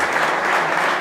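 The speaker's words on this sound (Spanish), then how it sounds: "Dar ese fuerte aplauso a nuestro Dios en esta mañana." A church congregation applauds during a Pentecost service, a dense, steady wash of many hands clapping at once, loud and close with no gaps.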